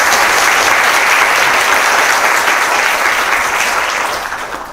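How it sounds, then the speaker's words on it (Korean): Loud, close applause from an audience at a KAIST special talk with Fields Medal winner Professor June Huh, a dense continuous wash of clapping that begins to fade at the end. "뜨거운 박수 부탁드립니다."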